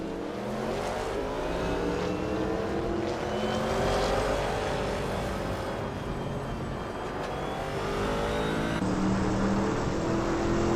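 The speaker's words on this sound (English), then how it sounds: "driving a 1990 Mazda 787B, known for its rotary engine and unique sound" A 1990 Mazda 787B Group C race car with a rotary engine, heard in a racing video game, holds a continuous high-pitched buzzing drone at steady volume as it runs, with no voices.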